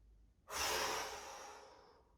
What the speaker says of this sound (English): So take an inhale and let it out.